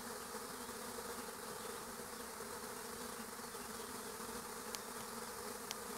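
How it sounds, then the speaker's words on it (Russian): A honeybee swarm hangs clustered along a tree branch outdoors while stray bees still fly through the air, making a steady, dense buzzing hum that continues unbroken throughout. "Еще летают пчелки в воздухе"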